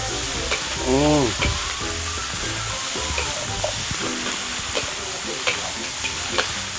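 Pork belly (liempo) sautéing in a pan for menudo, with a steady loud sizzle and frying crackle throughout, along with scattered utensil scrapes and a brief voice early on.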